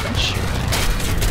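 Guns of a fighter plane, a P-51, firing in a video game: a loud, continuous rattling burst over engine noise for the whole stretch, with voices mixed in.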